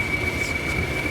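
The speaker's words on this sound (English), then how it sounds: "We'll get a better view of the locomotive backing up." A Class 20 diesel locomotive backs up near a closed level crossing on a heritage railway, its steady loud engine drone running continuously, with a persistent high whine on top.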